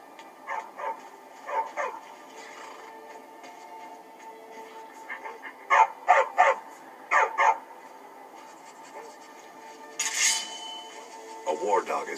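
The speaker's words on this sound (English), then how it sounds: "A war dog is good company and good protection." A war dog in Skyrim barks in short, separate bursts, some single and some in quick pairs, clear and fairly close, with a brief breathy whine near the end.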